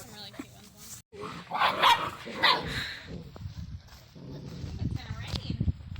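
Several puppies bark and yip in short, scattered bursts at close range, mixed with whimpers and people talking nearby.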